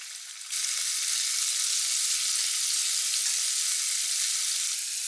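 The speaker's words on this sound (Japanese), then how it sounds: "小さめに切ったので、すぐに揚がります。" Small pieces of chicken thigh deep-fry in hot oil, a loud, steady, close sizzle that starts up sharply and crackles on without pause, with no talking.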